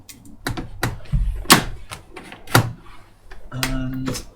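Rear door lock on a Rover P5B being worked by hand, a run of sharp mechanical clicks and clunks close up, irregularly spaced, ending in a short rattling movement.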